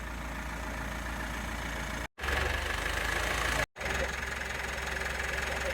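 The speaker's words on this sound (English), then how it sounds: "Before you refit the underbody sump protection, start the engine." A Mitsubishi Pajero Sport (Montero) engine runs at a steady, loud idle with a constant drone, broken by two brief cuts in the sound.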